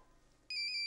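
A telephone ringtone in a Russian melodrama scene cuts in abruptly halfway through as bright, steady electronic tones, after quiet room ambience.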